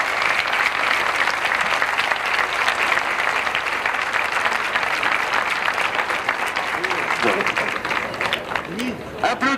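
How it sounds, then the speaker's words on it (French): Sustained, dense audience applause fills a motorcycle road-racing awards ceremony for the 1999 French championship, loud and steady throughout with faint voices rising near the end. "Et tout le monde se fait applaudir."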